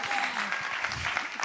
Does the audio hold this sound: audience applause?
yes